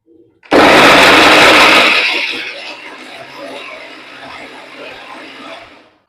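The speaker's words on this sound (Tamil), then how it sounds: "இந்த ஒரு மிக்சி ஜாரில் வந்து இந்த சின்ன வெங்காயமும் தக்காளியும் ரெண்டும் சேர்த்து ஒரு பேஸ்ட்டாக அரைச்சிட்டு வந்துடுறேன் நான்." A mixer grinder grinding shallots and tomato into paste starts abruptly with a loud, high whirring roar, then gradually quietens and winds down over several seconds.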